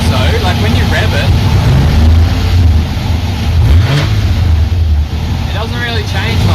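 Rebuilt LS1 V8 engine in a Nissan S13, loud and close, rumbling at idle and swelling through a couple of revs, with someone talking over it.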